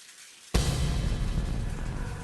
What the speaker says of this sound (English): Can you hear that? Is it rain? No, it's the shower.